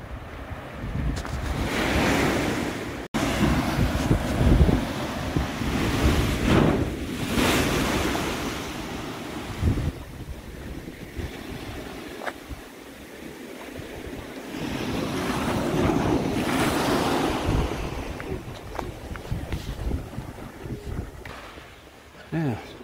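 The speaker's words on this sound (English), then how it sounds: "Yeah, Takapuna Beach." Surf rolling onto Takapuna Beach in rough conditions over black rock sections, with steady wind buffeting the microphone; the waves swell and recede in broad, loud washes throughout.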